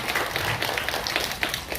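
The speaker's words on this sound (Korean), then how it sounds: "박수 부탁드립니다." A poetry recitation contest audience applauds a judge as they are introduced, a dense, even patter of many hands clapping throughout at moderate loudness.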